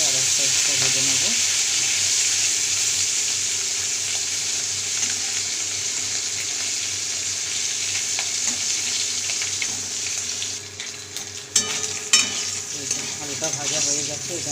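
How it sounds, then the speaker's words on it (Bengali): Hilsa fish head, salted and coated in turmeric, frying in oil on its second side, a steady close sizzle throughout with occasional stirring and utensil clinks toward the end. "এক সাইডটা ভাজা হয়ে গেছে, আর এক সাইডটা ভেজে নেবো"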